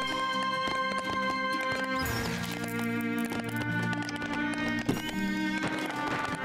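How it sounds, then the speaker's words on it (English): Many horses run in the video game 0 A.D., a dense, continuous patter of hoofbeats that stays steady and busy throughout, with no talk. "Wow, that is very many horses."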